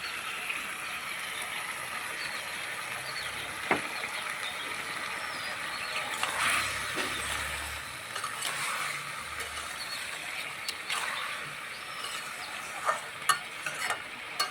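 A tomato, cashew and mango leather chutney is stirred in a pan, giving a continuous scraping and gentle sizzle with occasional sharper knocks of the spoon against the pan.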